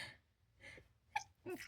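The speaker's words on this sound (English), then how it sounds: "Hold on, I have to sneeze." A single loud sneeze with a sharp inhale before it, close to the mic, followed by a breathy exhale.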